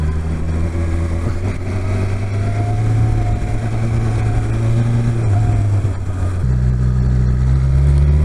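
A BMW S 1000 XR motorcycle engine pulling hard while riding, its steady mid-pitched drone rising in pitch and then dropping at a gear change near the end before climbing again, close and loud with no talking.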